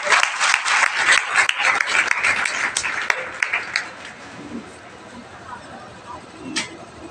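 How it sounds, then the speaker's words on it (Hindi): A burst of clapping from an audience at a school convocation fills the first few seconds, then fades into scattered claps and quiet room noise. "जोरदार तालियां हो जाए।"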